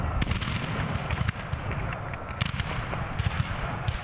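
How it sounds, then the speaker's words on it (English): Civil War reenactment in a North Florida pine forest at Olustee Battlefield, with dense cannon booms and rifle shots cracking in rapid irregular succession, loud and continuous throughout. "The loud booming of cannon fire rips through the North Florida pine forest"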